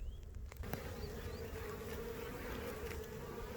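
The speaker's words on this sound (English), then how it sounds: "look at all the bees going in and out" Dense, steady buzzing of many honey bees flying at a hive entrance close by, a continuous droning hum with individual insects passing near.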